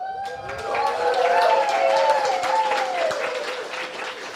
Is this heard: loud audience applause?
yes